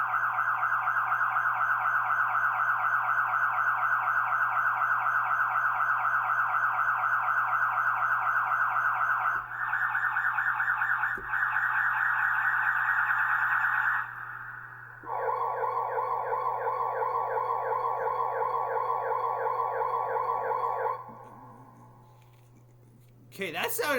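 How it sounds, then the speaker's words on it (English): A Roland GO KEYS 3 keyboard plays a siren sound effect, a loud continuous wailing electronic siren that cycles through several distinct alternating-tone patterns over a steady low hum before fading near the end. "We have siren."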